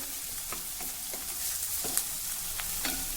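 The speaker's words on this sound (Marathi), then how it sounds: "आता हे व्यवस्थित परतवून घेऊ." Onion with coarsely crushed ginger and garlic sautéing in a pan: a soft, steady hiss of frying with light, scattered stirring taps and scrapes, fairly quiet and without speech.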